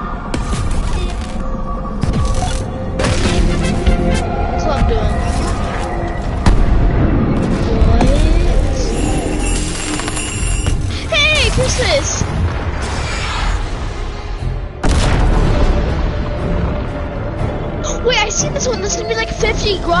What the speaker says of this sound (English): Rockets going everywhere